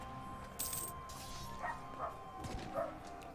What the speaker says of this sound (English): My dog is woofing.